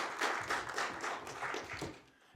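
Applause from a conference audience for speaker Chris Haller, a short burst of moderate clapping that thins out and fades toward the end.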